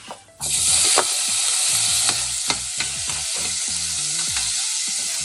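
Garlic dropped into hot oil already holding cumin seeds and asafoetida sets off a loud, steady sizzle that bursts in after a brief quiet start, with scattered stirring clicks and spatters throughout, no voices.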